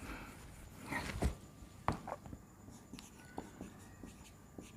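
Pen writing math equations on paper, soft scratchy strokes and light taps coming in short, irregular bursts, close and quiet, with a couple of louder scrapes early on.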